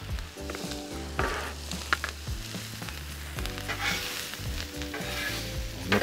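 Chorizo breakfast burrito filling sizzling on a Blackstone griddle as it is mixed, with steady frying crackle, repeated spatula scrapes and clacks, and low tonal sounds running underneath.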